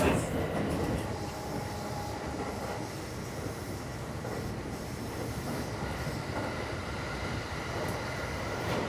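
A Japanese commuter train runs along the Ako Line from Aioi, heard from inside the car as a continuous loud rumble with wheel and rail noise, steady throughout.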